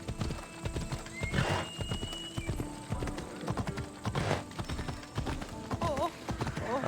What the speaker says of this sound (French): on va laisser mon cheval faire.